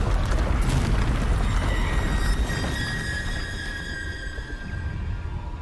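A Bombarda blasting spell from Hogwarts Legacy goes off as a loud booming explosion, followed by a long ringing, whistling decay with a rumbling tail.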